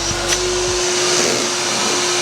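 A garage vacuum cleaner runs steadily at full suction, a loud, even whine and rushing airflow close by, with no talking.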